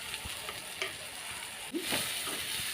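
Dry fish and brinjal curry with chili powder is stirred in a pan, a continuous close sizzle with soft scraping strokes of the spoon.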